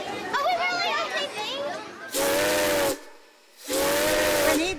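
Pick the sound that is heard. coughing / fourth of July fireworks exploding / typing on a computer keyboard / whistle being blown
whistle being blown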